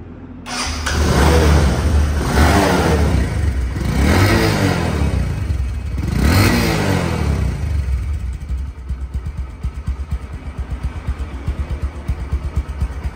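A used Bajaj Discover 125cc motorcycle engine starts and revs in three rising and falling bursts up close, then settles into a steady, even idle.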